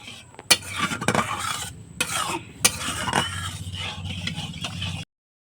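Palm fruit batter being stirred with milk for a Bengali pitha, a spoon or ladle scraping and clinking against a metal bowl in irregular strokes, close and fairly loud, with no talk.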